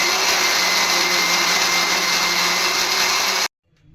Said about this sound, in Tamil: மிக்சியில் போட்டு அரைச்சிக்கலாம்.